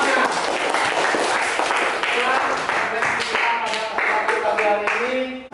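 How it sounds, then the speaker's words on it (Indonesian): A school class in a classroom claps together in a sustained round of applause, with voices audible over and between the clapping. "tepuk tangan buat kita semua"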